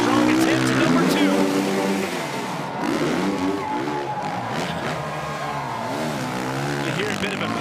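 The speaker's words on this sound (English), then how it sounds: "You hear a bit of a panic rev there in that flip combo" A snow bike engine at the X Games Aspen Snow Bike Best Trick event gives a loud, sudden panic rev mid-flip combo, its rising whine cutting through crowd noise and an announcer's commentary.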